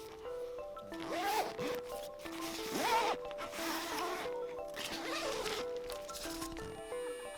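Short zipper pulls repeat several times, each a quick rasping zip, close up and fairly quiet, with a squeaky tone.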